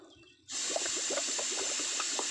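A leaking Mazda BT-50 radiator under an air-gun pressure test, air bubbling steadily through water in a continuous fizzing wash with small repeated bubble pops, close and fairly loud after a quiet start.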